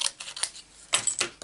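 Scissors snip through paper, cutting out stamped and painted poppy flowers with a few short, quiet cuts in an irregular rhythm and nothing else heard.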